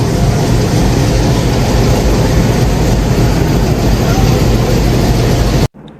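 Commuter train departing Rajshahi railway station, a loud, steady rumble of engine and wheels heard close up, continuous and broadband until it cuts off abruptly near the end.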